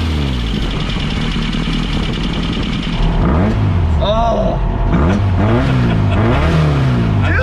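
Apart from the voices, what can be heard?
VW Baja Bug engine revving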